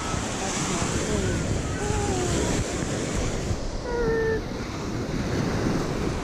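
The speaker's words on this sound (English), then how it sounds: "See that water? Look at those waves." Ocean waves breaking on a beach during a vacation, a steady broadband wash of surf under heavy wind buffeting on the microphone, with faint tonal squeals in the background.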